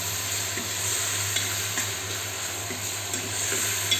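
Onions frying with salt in a pan, a steady soft sizzle with faint stirring scrapes, heard alone at close range.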